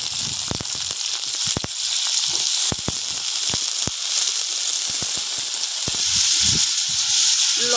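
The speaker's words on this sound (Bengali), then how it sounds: "এবার তেলে আলুগুলো দিয়ে দেবো।" Potatoes sizzle in hot oil in a wok with a steady, loud bubbling hiss, scattered sharp crackles and pops running throughout, no voices.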